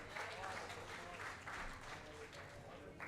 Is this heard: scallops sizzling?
no